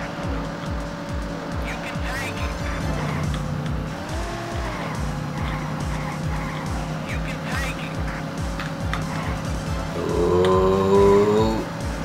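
Daytona USA race car drifting on the Sega Saturn, engine droning steadily with long tire skids and a louder screech near the end, while a player talks over the game.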